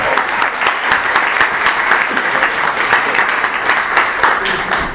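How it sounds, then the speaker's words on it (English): A crowd at an improv comedy festival applauds the players after a game, a dense burst of clapping that stays steady and energetic for about five seconds. "A round of applause for the players."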